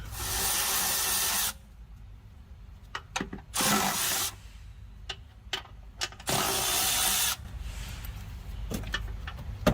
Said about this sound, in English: let me grab a socket and get these hold downs off